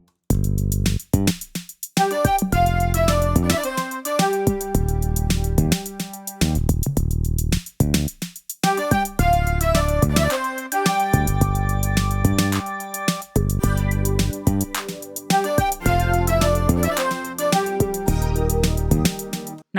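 Deep synth bass notes from a studio bass preset in UJAM Turbo-XT play a rhythmic, punchy line with short gaps between phrases, loud and alone with no talking.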